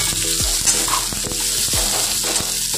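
Pumpkin, sweet potato and other vegetables frying in oil with a spiced tempering for a Bengali mango dish, a loud continuous sizzle broken by repeated stirring knocks and scrapes.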